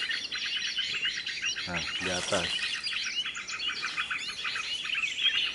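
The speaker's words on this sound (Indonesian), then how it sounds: "Burung kecil." Small birds chirp in a bamboo grove, with rapid high chirps and twitters repeating throughout at moderate distance and a person speaking briefly over them.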